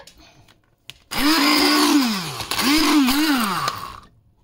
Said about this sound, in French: Maintenant, je mixe le petit consommé de courgettes.